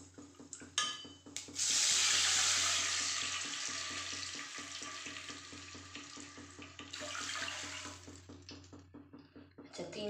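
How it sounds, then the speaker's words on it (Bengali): Water poured from a bowl into a cooking pot, a steady splashing rush starting after a brief clink and running for several seconds, then tapering, close and fairly loud with soft kitchen clatter around it. "জলটা দেখুন এই বাটির মেপে আমি 2 বাটি জল দিচ্ছি"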